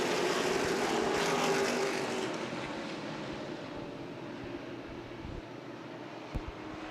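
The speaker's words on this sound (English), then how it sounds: "The green flag is out. We are racing." Race cars roar around the 7/16-mile Berlin Raceway oval in a 2015 ARCA/CRA Super Series 125 race, a loud broad engine drone at the start that fades into a steadier distant rumble.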